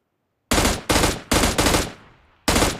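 Gunfire in the battle-royale game PUBG Lite, with loud close bursts of automatic fire in several quick volleys separated by short pauses and one final burst, no talking.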